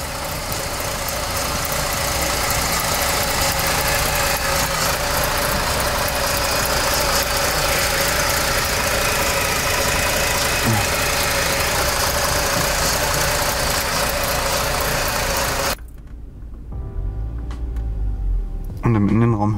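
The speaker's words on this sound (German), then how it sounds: "So ein bisschen hört man die Hydros." A car engine with a sharp performance camshaft idles roughly and steadily, faint ticking from the hydraulic lifters running beneath the loud continuous engine drone, which drops away sharply near the end.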